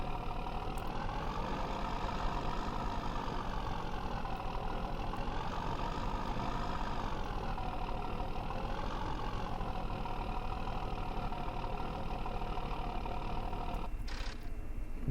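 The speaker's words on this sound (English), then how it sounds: "That truck is very, very noisy." A Chevy/GMC truck engine in Farming Simulator 2015 runs with a steady, noisy drone and a slight rising and falling pitch, continuous and alone for about fourteen seconds before a brief click at the end.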